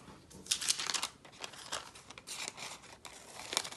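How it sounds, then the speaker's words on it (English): Paper scissors slicing through pattern paper while a contour line for a half-scale center front bodice pattern is cut, a run of crisp, close crinkling snips and tearing-like cuts in quick irregular bursts, no voices. "we just take our paper scissors"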